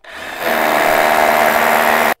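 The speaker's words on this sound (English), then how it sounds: "what we're going to do now is just drill that hole a bit further" A power drill bores a hole into a wall to bolt on a fence post, running steadily and loudly for about two seconds before cutting out abruptly.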